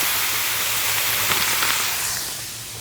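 Boca meatless crumbles browning in bacon grease on an outdoor Firedisc cooker, a steady loud hiss and sizzle that holds evenly and fades slightly at the end.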